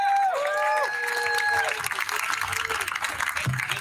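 Audience applause and cheering for speaker Dan Cohen at a Hands Off Assange event in Washington DC, steady and loud through the clip, with tonal whistle-like tones at the start.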